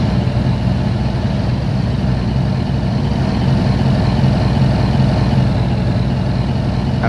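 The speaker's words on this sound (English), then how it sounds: "The engine was to push a boxcar." Denver & Rio Grande Western 14 locomotive pushing a boxcar, a steady low engine rumble and hiss that stays constant and fairly loud throughout with no talk.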